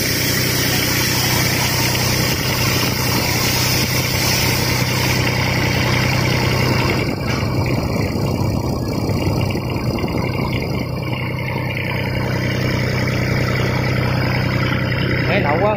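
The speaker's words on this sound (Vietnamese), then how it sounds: "Máy nổ quá ngon." A motorbike engine running on a test for a buyer idles in a steady, close, unbroken drone throughout, with voices in the background.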